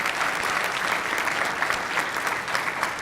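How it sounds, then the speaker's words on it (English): Audience applause at a talk on safety and empowerment in the education of LGBTQ youth, a steady dense clapping from a crowd that carries on at even loudness for the whole stretch with no voices over it. "let's give her a nice round of applause"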